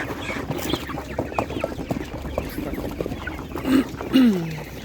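Chickens clucking close by over a busy, noisy market background, with a couple of louder squawking clucks near the end.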